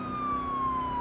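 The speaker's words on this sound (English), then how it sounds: "We need to change our siren up." A vehicle siren wails in the video game Project Zomboid, a loud, steady tone gliding slowly downward, heard alone over a faint engine rumble.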